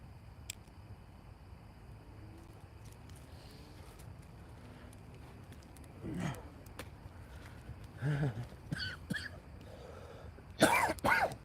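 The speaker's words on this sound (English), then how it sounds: "Why am I coughing this much?" Several short throat-clearing coughs from a man sitting out at a late-night campfire, arriving in bursts near the end over a low steady outdoor background, the last burst loudest.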